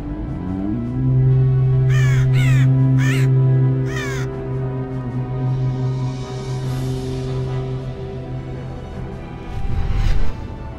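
Several storm crows caw loudly and close in a World of Warcraft druid cinematic, harsh repeated calls over a low sustained drone, which later swells into a windy rush as the birds take flight.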